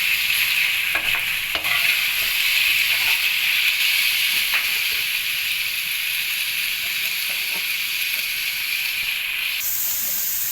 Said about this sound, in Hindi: तो भी हम थोड़ी देर फ्राई करेंगे